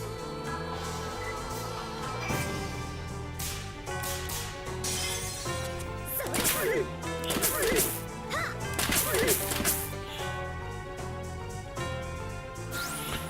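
Eel monster noises in the video game Shadow Hearts: sharp whip-like cracks and thwacking hits over busy, loud game music, with bursts of warbling, squealing cries clustered midway through.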